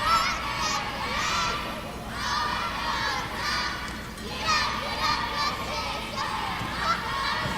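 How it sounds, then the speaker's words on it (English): A crowd cheers at a cheer competition, swelling and fading in waves of young voices and shouts, with a nearby voice calling out over the noise. "now the crowd's cheering with her, but we can still hear her voice"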